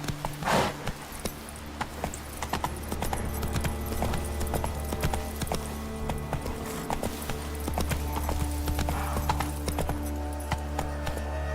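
Horse hooves clip-clop steadily on the move through The Witcher 3, a close, even rhythm that runs the whole stretch over a low constant game background, with one brief vocal-like burst near the start.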